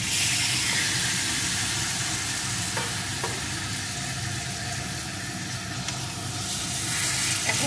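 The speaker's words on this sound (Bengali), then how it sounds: "এখন এর ভিতরে আমি ম্যারিনেট করা চিকেনটাকে দিয়ে" Marinated chicken fries in oily spice paste for a black pepper chicken curry, giving a dense, continuous loud sizzle close up, with faint scraping and stirring beneath.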